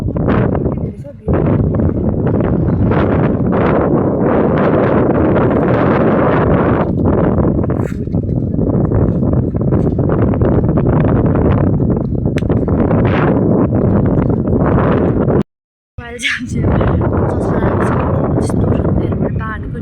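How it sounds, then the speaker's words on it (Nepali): Strong wind roars across the microphone outdoors at a crowded spot where flags and tents are tied down, making a loud, continuous buffeting rumble that drops out for a moment and then returns. "यस्तो हावा चल्छ त्यो"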